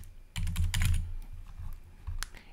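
Rapid keystrokes clatter on a computer keyboard while an answer is typed into an online quiz, coming in short uneven bursts, close and fairly clear, with no voices.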